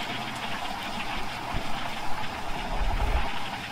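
Rupasi Bangla passenger train running through the Jangalmahal area near Purulia, heard from a window seat: a steady, close rumbling roar with broad wind and rail noise and a few low thumps from the track, with no talk.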